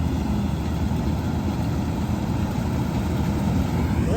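In a wheat field, the engine of a combine harvester drones in a loud, steady, low rumble that holds constant from start to finish, with no talking over it.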